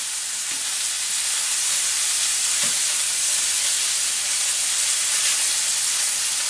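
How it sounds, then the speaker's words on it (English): Steady broadband sizzle of braciole meat frying in a hot pan, a continuous hiss with a few faint pops and no voices. "these guys are sizzling away nicely"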